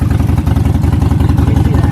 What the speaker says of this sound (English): should Dad rev his motorcycle? You want to hear the vroom vroom?